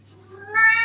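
A house cat gives one rising, drawn-out meow close by, swelling louder toward the end over a low steady background hum indoors.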